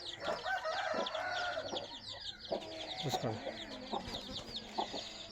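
Village hens with their young chicks cluck repeatedly and fairly close by, with sharp bird calls layered over one another, while a person briefly speaks in the background.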